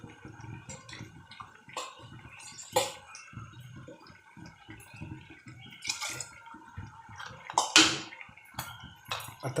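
Water splashes and trickles into a cooking pot of mashed pumpkin for sambar, in uneven bursts and drips with a few sharper splashes near the end and no talking.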